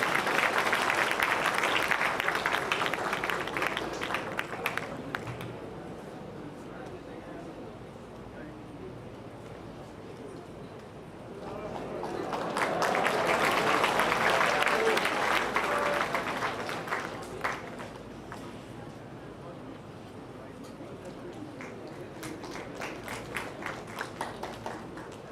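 Ceremony audience applauding in a hall, a dense round of clapping at the start that fades, then swells again loudly in the middle and tapers off into scattered claps toward the end.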